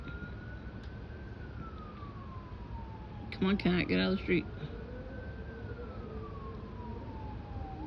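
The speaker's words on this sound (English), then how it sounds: "You hear the sirens?" A distant siren wails steadily, its pitch gliding slowly up and down, while a person speaks briefly in the middle.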